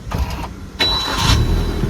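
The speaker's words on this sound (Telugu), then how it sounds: "ఇక నేను ఇంజన్ స్టార్ట్ చేస్తున్నా ఇప్పుడు." Maruti Nexa Baleno Alpha 2019 hatchback engine cranking and catching on the first try, a sudden starter burst followed by a steady running hum, close and fairly loud with no voices.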